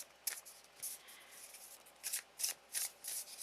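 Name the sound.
shuffling a Wild Unknown Tarot card deck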